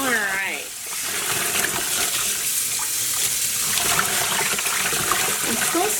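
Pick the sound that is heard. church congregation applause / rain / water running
water running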